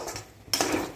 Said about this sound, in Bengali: আবার এভাবে কিছুক্ষণ কষে নিচ্ছি